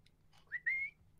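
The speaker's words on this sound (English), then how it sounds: "I don't know why you're whistling." A person whistles a short rising note that slides upward and then holds steady for a moment. The whistle is quiet and close, with a faint low hum beneath it and no talking.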